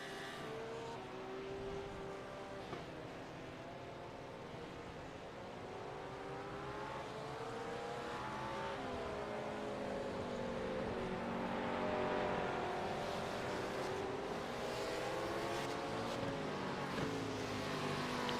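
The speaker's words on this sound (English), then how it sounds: "I saw the 427 Ford come out and I did have to just be quiet and listen to that beautiful V8 rumble." Ford 427 V8 race car rumbling through a GT3 race at Sebring, a steady loud engine drone with rising and falling pitch as it revs and passes, mixed with other race cars and no talk.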